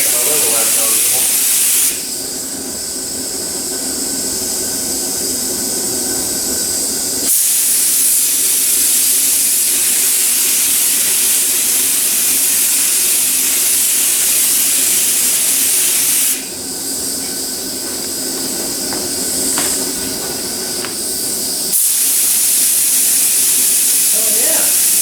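A spray gun hisses steadily as it lays primer over repaired spots on a plastic car bumper cover, in two long loud bursts separated by a pause, heard close with talking in between.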